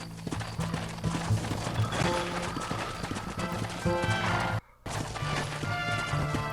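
Rhythmic hoofbeats of a galloping horse in a video game, over a busy, music-filled game soundscape, with a brief dropout near the end before the galloping resumes.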